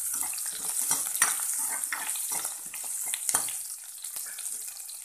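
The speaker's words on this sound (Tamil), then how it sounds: "வெங்காயம் ரொம்ப டீப் ஃப்ரை பண்ண வேண்டாம்" Onions frying in a pan over medium flame while making idli sambar, with a close sizzle and crackle broken by scraping stirs and spoon clinks throughout.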